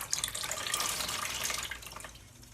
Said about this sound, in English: drain off some of that extra water.